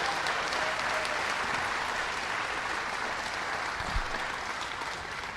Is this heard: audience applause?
yes